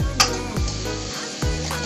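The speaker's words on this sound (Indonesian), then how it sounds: "Ini kita aduk lagi." A spatula stirs salted peda fish with pete beans, sugar and ground pepper frying in a pan, giving a steady close sizzle with scraping strokes of stirring and no talking.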